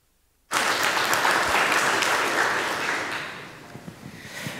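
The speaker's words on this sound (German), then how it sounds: "Einen herzlichen Applaus bitte." Audience applauding after a talk is introduced at a conference session on software security, a sudden loud burst of dense clapping that holds steady, then thins and fades toward the end.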